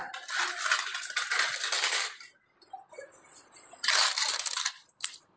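Saved twenty-peso coins poured and handled by the bucketful, a dense metallic clinking rush in two long bursts with a quiet pause between and a short final clatter, close and clear.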